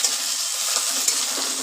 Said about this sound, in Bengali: পেঁয়াজ কুচিটাকে লাল লাল করে ভাজা করে নেব।